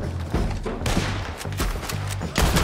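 Gunfire in the video game Red Dead Redemption 2 rattles off as dense, rapid overlapping shots, loud and continuous for a few seconds with booming low-end thumps.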